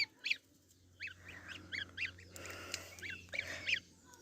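A farmyard goose on a small homestead among ducks gives a series of short, nasal honks, about eight spaced calls over a low steady hum, fairly close and moderately loud.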